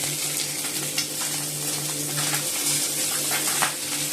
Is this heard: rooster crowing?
no